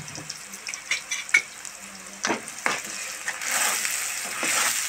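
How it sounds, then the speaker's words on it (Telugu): A paste of onion, tomato, ginger, garlic and cumin fries in oil for a tamarind fish curry, giving a steady sizzle with scattered stirring scrapes that swell into a louder, continuous hiss near the end. "ఇవన్నీ నూనెలో మగ్గాలండి, బాగా మగ్గాలండి."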